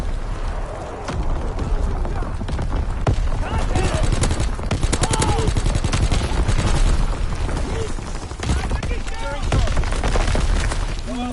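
Dense video game gunfire from a PS4 shooter: rapid automatic bursts and booming shots that run continuously near and loud, with voices talking over the battle.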